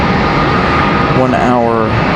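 An American Airlines jet passes by at Charlotte Douglas airport with a loud, continuous engine roar and a rising and falling whine, while a voice talks over it.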